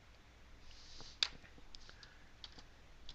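Typing on a computer keyboard: a few faint, scattered key clicks with one sharper tap, in an otherwise quiet room with no talking.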